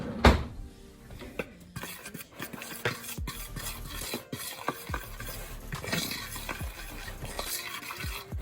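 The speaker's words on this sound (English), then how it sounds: "I just like to take a fork and mix it together" A fork stirs flour and other dry banana bread ingredients in a bowl, making quick, uneven scraping and clinking strokes close to the microphone, with no voices.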